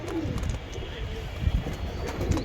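Two big male pigeons coo in low, throaty bursts close by, their soft rumbling calls repeating while someone talks over them.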